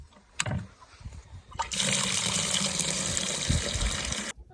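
Water gushing into a container for chickens on a snowy ranch after a blizzard, preceded by a couple of clunks, then a steady loud rushing pour lasting several seconds before cutting off abruptly.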